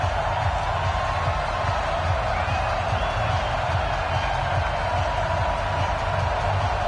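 Stadium crowd noise in an EA Sports football video game before a Cincinnati Bengals versus Oakland Raiders matchup, a steady loud roar of cheering fans sustained throughout without a break.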